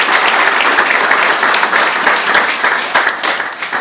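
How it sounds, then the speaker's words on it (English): A forum audience gives another round of applause for county commissioner candidates, a loud, steady wash of many hands clapping that carries through the whole stretch without a break. "let's give them another round of applause"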